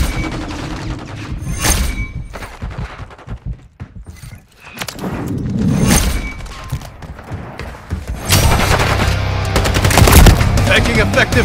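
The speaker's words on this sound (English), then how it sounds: "Taking effective fire!" Loud bursts of automatic gunfire in a first-person shooter game come in waves with thuds and short lulls between them, and an intense stretch of firing near the end.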